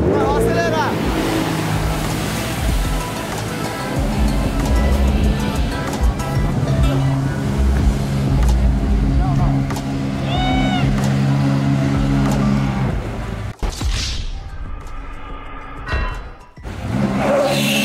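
A jet ski runs on the water at a house party, its engine droning steadily beneath splashing and wind while people talk and shout nearby, before the noise briefly cuts out near the end.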